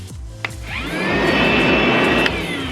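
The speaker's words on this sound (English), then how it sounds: "This is a wet and dry vac." A cordless wet and dry vacuum switches on with a brief click and spins up into a loud, steady whining roar that holds to the end, close by, with no talk.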